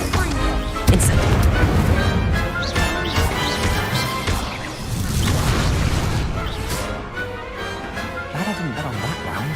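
Spell combat in Hogwarts Legacy with a loud crashing blast and whooshing bursts as an Incendio fire spell is cast amid other impacts, with a voice speaking over it.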